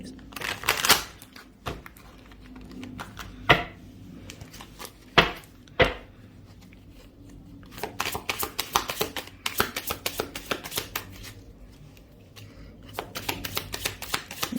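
Tarot cards being shuffled close up, with bursts of riffling and flicking that come and go in clusters, some sharp snaps, and quiet stretches between.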